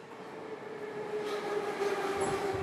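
An RER suburban train rumbles across a bridge at the end of a pedestrian street, a sustained metallic rolling with a steady squealing tone that grows louder as it passes nearby.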